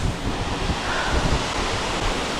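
A waterfall on the Bolaven Plateau in Laos roars as it plunges down, a loud, continuous rushing wash close by with no talking.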